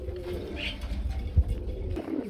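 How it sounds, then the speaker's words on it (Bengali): Pigeons coo softly and steadily, a low throaty murmur close by, with a faint chirp and some light background rustle. "লিটন ভাইয়ের কবুতর মানে কিন্তু সেই লেভেলের।"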